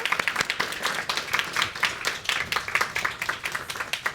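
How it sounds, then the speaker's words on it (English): Applause for a speaker at the close of a talk on carbon taxes, a steady patter of claps from a modest audience, moderately loud and continuous without speech. "please join me in a round of applause for the speaker"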